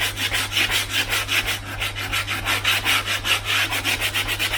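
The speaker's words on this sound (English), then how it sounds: "So I will sand only along the grain." Coarse grit 40 sandpaper sanding a timber floor along the grain, steady back-and-forth rubbing strokes in a rhythmic pattern, close and fairly loud with a constant low hum beneath, no talking.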